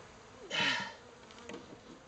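A swell of honey bee buzzing from a warm hive in winter rises sharply, hums loudly for about half a second, then fades to a faint drone with a brief second buzz.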